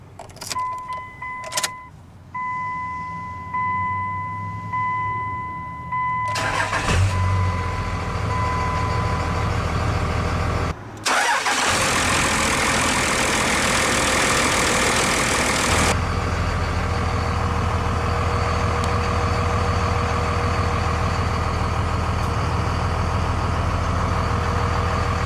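A 2002 Dodge Ram 2500 with the 24-valve 5.9 Cummins diesel: faint cab clicks and key sounds, a brief starter crank, then the engine catches and settles into a loud, steady rumbling idle.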